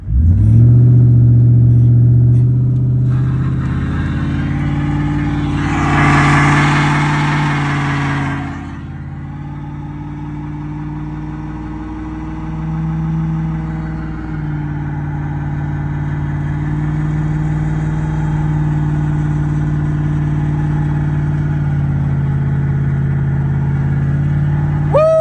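A 2008 Ford F-150 pickup with 300,000 miles roars loudly through a burnout, engine revving hard with a rising surge of tire noise, then settling into a steady heavy idle rumble close by.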